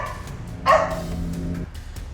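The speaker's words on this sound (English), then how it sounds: "Dogs barking and everything." One sharp dog bark, fairly close, followed by a low drawn-out growl or whine against a quiet background.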